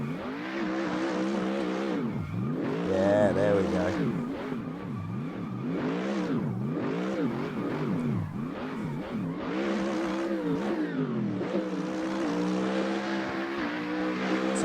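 A BMW M3 drift car in the racing game Assetto Corsa revs hard as its engine rises and falls in sweeping waves, with tire squeal beneath, sustained and loud; someone speaks briefly over it.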